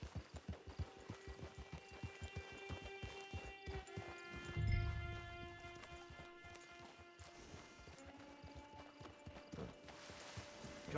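Horse hooves clip-clop steadily in Red Dead Redemption 2 at a walking pace, close and rhythmic, over a faint game ambience with a brief heavier thump midway.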